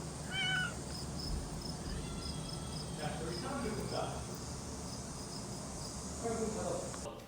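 A cat meows a few times, plaintive and fairly close, over a constant chirping of crickets, with quiet voices talking in between.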